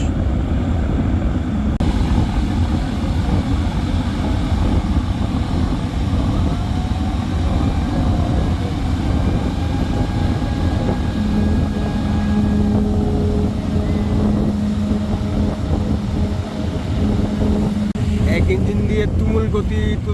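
A passenger launch, Adventure-9, overtakes other vessels on a river, its engine a loud, constant low rumble with wind and water noise throughout and someone talking over it.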